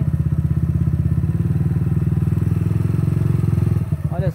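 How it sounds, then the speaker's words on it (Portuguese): Motorcycle engine chugging in a steady, low pulsing putter close by as it pulls away slowly with the clutch eased out during a riding lesson, then the beat fades near the end; an instructor's voice is present. "vai tentar sair com a moto"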